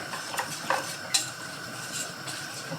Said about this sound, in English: You just want to whisk this till there's no more lumps.